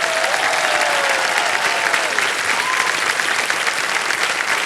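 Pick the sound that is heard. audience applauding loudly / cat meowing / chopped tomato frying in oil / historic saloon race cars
audience applauding loudly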